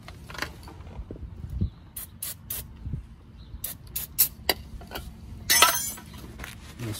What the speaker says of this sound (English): I'm gonna spray down.